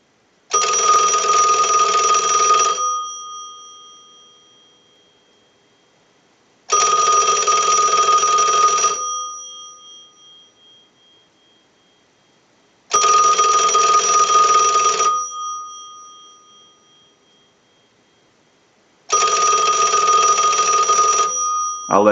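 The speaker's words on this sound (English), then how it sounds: "use the analyzer and send a ring cycle like you were getting a call" Automatic Electric chrome three-slot payphone bell ringing on an analyzer ring cycle: four loud two-second rings separated by roughly four-second silences, the metallic ring decaying after each burst, close and alone.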